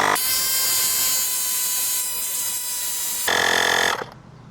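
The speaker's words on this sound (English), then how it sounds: "which I will say is by far the slowest compressor that I have" A Licorne portable tire inflator runs as a steady, loud, buzzy electric whine, close up and continuous before its pitch shifts near the end and it abruptly cuts off.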